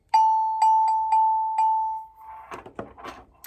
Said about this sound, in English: These are like your desk bells or your chime bars.